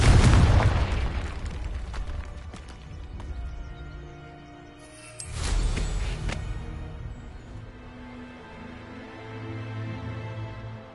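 Booming explosions from the Confringo fire spell in the video game Hogwarts Legacy, a loud blast opening the clip and a second burst midway, each trailing off into rumbling debris.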